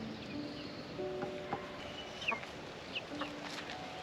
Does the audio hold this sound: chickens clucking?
yes